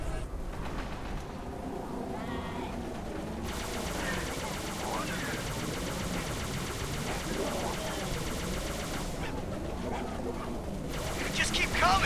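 Dense, continuous gunfire and explosions fill a chaotic firefight in the Halo 3 video game, a steady loud roar with bursts throughout, while voices shout over the battle.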